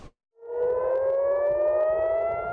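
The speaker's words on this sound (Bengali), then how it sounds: "হাইপারসনিক ব্যালিস্টিক ক্ষেপণাস্ত্র হামলা চালালে সতর্কতামূলক সাইরেন বেজে ওঠে" A loud civil defense air raid siren wails in Tel Aviv during a hypersonic ballistic missile attack, after a brief click, its steady tone rising slowly in pitch and holding strong throughout.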